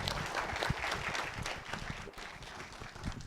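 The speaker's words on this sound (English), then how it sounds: "Give him a big round of applause for being with us." An audience at a Doylestown, Pennsylvania town-memories panel event claps in a dense, fairly quiet patter of applause for a few seconds, with faint voices mixed in.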